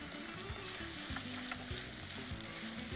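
Dried red chillies and ginger sauté in a hot pan with a loud, dense sizzle and repeated scraping strokes of a spoon stirring them.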